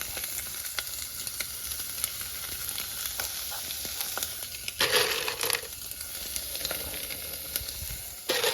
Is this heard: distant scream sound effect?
no